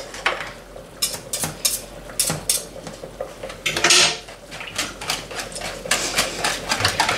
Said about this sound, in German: Und dann erstmal das alles vermischen.